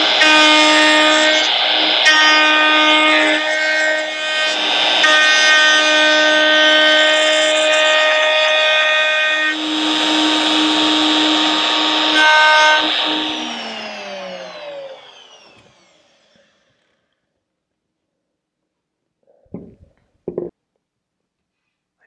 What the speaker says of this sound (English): I'm just going to take my router and remove some waste